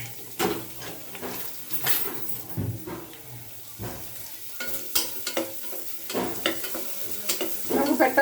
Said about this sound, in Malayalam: ജസ്റ്റ് ഒന്ന് സോട്ട് ചെയ്യാം